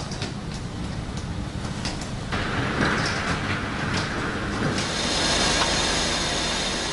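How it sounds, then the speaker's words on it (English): A polyp grab crane lifts five tons of shredded, homogenized waste in a waste-to-energy plant bunker, giving a loud, steady mechanical rumble and hiss that shifts in tone around two and five seconds. "Annalisa Seifert easily lifts 5 tons of waste with her polyp crane"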